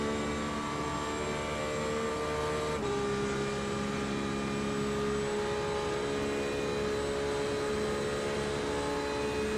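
Race car engine held on a steady, modulated throttle in a Le Mans racing video game, a continuous loud tonal drone with a pitch shift partway through, no talk.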